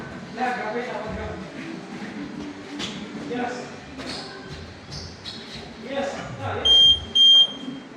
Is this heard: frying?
no